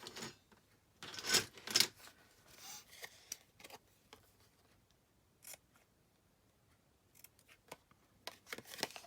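Scissors trim paper for a summer journal page in a few quick bursts of close, crisp snips, then scattered faint clicks and rustles in a quiet room.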